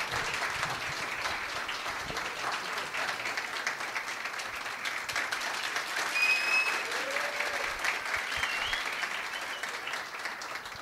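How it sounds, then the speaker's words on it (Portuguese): A crowd at a hypnosis show in Cachoeirinha gives sustained, even applause, a dense wash of clapping lasting about ten seconds with faint voices and a whistle or cheer rising briefly within it. "uma salva de palmas para os nossos astros"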